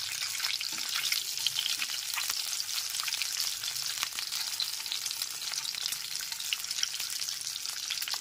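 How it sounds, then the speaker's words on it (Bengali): Boiled eggs lightly frying in oil over a medium gas flame, giving a steady, close crackling sizzle with no talk throughout. "গ্যাসের ফ্লেমটা মিডিয়ামে রেখে হালকা করে ডিমগুলোকে ভেজে নিতে হবে।"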